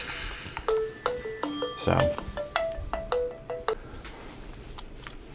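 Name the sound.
phone call ringing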